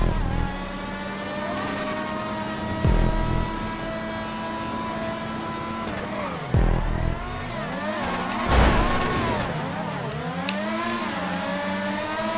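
Open-wheel race cars in GTA V launch from the start, their engines screaming and rising in pitch as they accelerate together, with several revving cars overlapping and sweeping up and down through gear changes.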